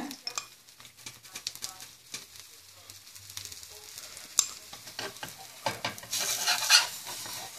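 Mutton kari dosa frying in sesame oil on a pan gives a soft crackling sizzle, broken by scraping and clinks of a utensil, with the sizzle swelling louder toward the end.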